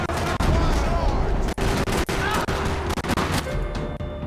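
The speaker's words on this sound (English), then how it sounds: "Another parking lot rattling with gunfire." Gunfire from the video game Max Payne 3 rattles through a parking lot, with rapid automatic bursts and sharp individual shots cracking close and loud over constant background din.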